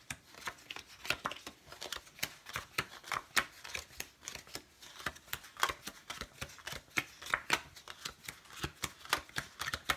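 Playing cards dealt one at a time into five piles of five, a quick series of close, soft slaps and flicks in an irregular rhythm.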